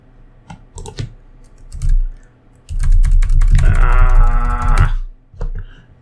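Someone types on a computer keyboard while coding Ruby exercises: scattered close key clicks in bursts, with a louder sustained stretch midway, no speech.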